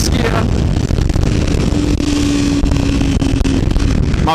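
A Kawasaki Ninja 300 motorcycle engine runs loud and steady as it climbs through fourth, fifth and sixth gear, with a sustained drone and a rising whine in the middle, holding up through the whole stretch.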